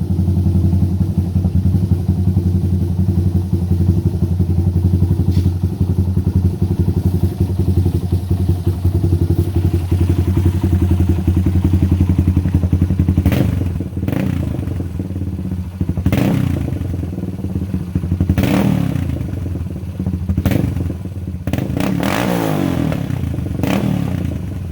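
An old 230 motorcycle engine idles loud and close with a steady low throbbing rumble, then gives several sharp revs or clattering bursts toward the end, with no talk.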